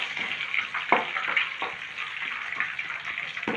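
Chana dal fries in hot oil for a potato palya, giving a soft, continuous sizzle with a few light crackles and stirring clinks, close by and without talking.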